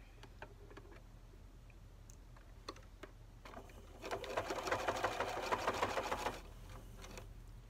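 A sewing machine stitches fabric for a triangle pouch. A few light clicks and taps come first, then a loud rapid whirring run of a couple of seconds, close up, followed by quieter handling.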